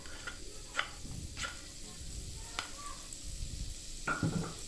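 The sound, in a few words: garlic sautéing in butter in a pan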